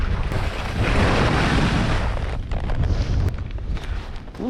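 Strong, cold gusting wind at a ski area roars across the microphone, a steady low rumble with buffeting swells and no voices.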